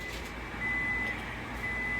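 A kitchen timer beeps while gluten-free monster cookies bake, a thin, steady high tone that sounds twice under a low background hum.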